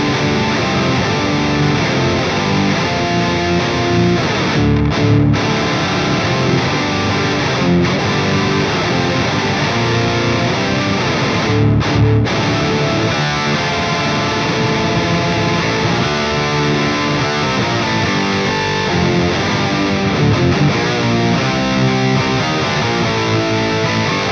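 Electric guitar played through a Mooer effects pedal with a heavily processed, synthetic, keyboard-like tone, dense and loud throughout with steady sustained notes and a few brief dropouts.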